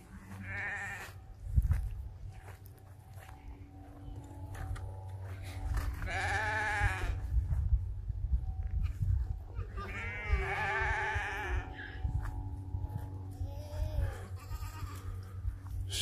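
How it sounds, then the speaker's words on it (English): Goats bleating in a farm pen, several wavering bleats rising at intervals over a steady low rumble and outdoor ambience, fairly close, with no talking. "let's go check out the goats"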